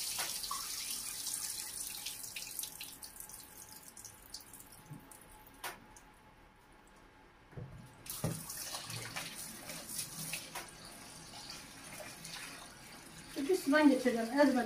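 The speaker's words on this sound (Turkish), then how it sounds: "Bir sudan geçeceğim" Tap water running steadily as something is rinsed under it in a kitchen sink, a continuous close rush that briefly stops and then resumes with splashing, under occasional talk.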